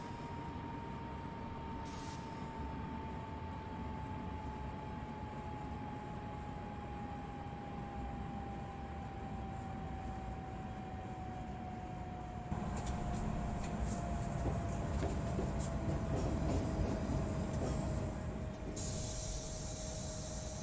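An SNCF AGC train in Train Simulator braking on the approach to Cerbère station over switches: a continuous rolling rumble with a slowly falling whine, growing rougher and louder about two-thirds of the way through.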